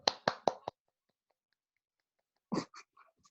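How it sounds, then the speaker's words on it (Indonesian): Students in a Zoom class clap briefly over a thin online connection, giving four quick sharp claps, then a pause of nearly two seconds and another short uneven burst. "Kita tepuk tangan dulu."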